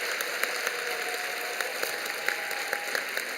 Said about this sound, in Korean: 돌아서서 교우들에게 인사하실 때 큰 박수로 격려해 주시기 바랍니다